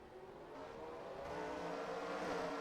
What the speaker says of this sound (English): there is the command to fire up the engines